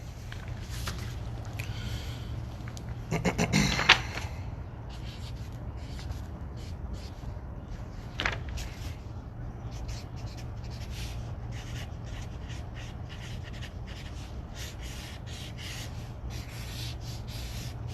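Pen or marker scratching across a small piece of paper while a simple diagram is sketched, a soft continuous rubbing with a brief louder burst of strokes near the start and another short stroke midway.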